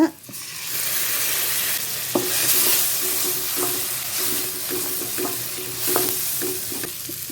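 Onions and spices sautéing with turmeric in a pan for lemon sevai, a loud continuous sizzle broken by repeated scraping strokes of a spoon stirring at a steady rhythm, with no talking.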